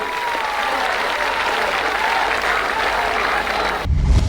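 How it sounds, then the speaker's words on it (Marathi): A large crowd at Manoj Jarange Patil's Dasara rally at Narayangad claps loudly and steadily, a dense roar of applause that cuts off abruptly near the end, leaving quieter crowd noise. "जोरदार टाळ्या वाजवायच्या आपण सगळे"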